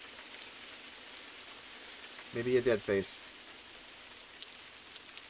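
Steady, soft rain patter in a horror video game fills the background throughout, with a brief burst of speech in the middle.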